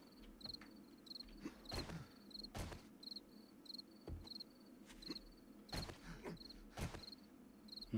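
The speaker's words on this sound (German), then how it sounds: "Die zirpenden Grashüpfers" Grasshoppers chirping in the survival game 7 Days To Die, a repeating high shrill trill in short regular bursts, with occasional clicks and soft rustling steps in the background.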